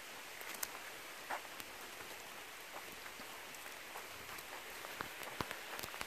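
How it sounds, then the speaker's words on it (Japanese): Light rain pattering down on an outdoor surface while a golden retriever is out, a steady soft hiss with scattered sharper drops, fairly faint and without talk. "雨降ってきた。"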